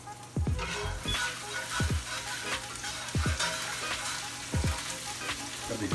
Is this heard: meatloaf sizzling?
yes